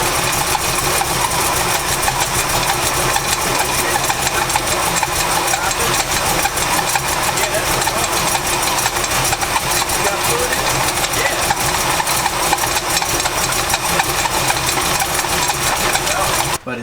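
Engine of a Chevrolet C10 pickup truck with a power steering problem runs steadily up close, a dense, continuous mechanical drone with whining and ticking texture that ends abruptly; brief voices are faintly heard.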